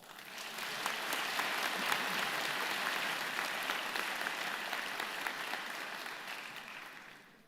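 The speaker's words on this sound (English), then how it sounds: "please, everyone, give yourselves a big round of applause" A large crowd claps at a spring teacher education graduation ceremony for the Ontario Institute for Studies in Education, a dense, even roar of applause that swells at the start and fades slightly near the end.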